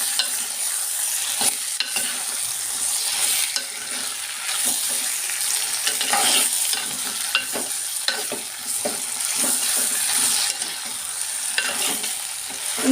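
Potatoes and onions sizzle in a frying pan as a breakfast dish is stirred, giving continuous loud crackling frying broken by repeated scraping stirs. No one talks.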